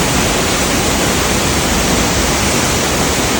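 A jungle waterfall reached at the end of a hike, pouring as a loud, steady, broadband roar that fills the whole moment without any break or voices.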